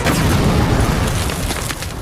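A burning set of clothes suddenly explodes in a forest, giving a dense, sustained roar of low boom and rumble that stays loud for about two seconds with no voices.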